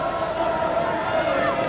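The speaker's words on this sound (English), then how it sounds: "The Brighton crowd finally really getting behind their team" Brighton supporters at a 1981 football match against Liverpool cheer and chant in a broad, sustained roar from the stands, with a commentator's voice faintly layered over the crowd noise.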